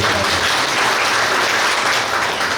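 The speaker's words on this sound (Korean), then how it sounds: "박수 부탁드립니다." A forum audience at a regional balanced-development information cooperation conference applauds loudly and continuously, a dense wash of clapping filling the whole moment.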